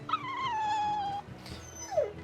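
A dog in the video game Tales of Berseria gives a long, drawn-out whine, followed by a brief scuffle and a short falling yelp, close and clear.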